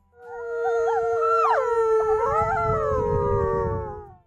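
Several wolves at a Norwegian wildlife reserve howl together with a woman, long sliding wails layered over one another, close and loud, with a rising and falling chorus that fades out at the end.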